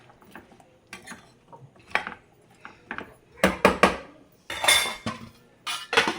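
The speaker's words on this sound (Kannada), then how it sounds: "ಚೆನ್ನಾಗಿ ಮಿಕ್ಸ್ ಮಾಡಿಬಿಟ್ಟು ಲಿಡ್ ಕ್ಲೋಸ್ ಮಾಡಿ" Sweet pumpkin palya is stirred in a pan, producing scattered scraping and clinking of a utensil against metal, with louder sharp knocks and a metallic clatter as the lid is set down, close and intermittent with quiet gaps.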